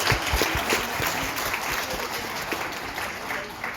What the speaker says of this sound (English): can I just please ask you to give us a round of applause?